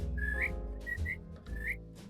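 A person whistles short, wavering notes in three bursts, rising and bending in pitch, close and fairly quiet, with low humming noise underneath.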